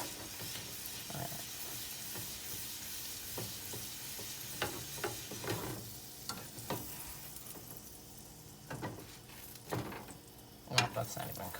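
Grilled cheese sandwich frying in butter in a pan, giving a steady sizzle and hiss with occasional stirring and scraping sounds, a voice talking intermittently over it.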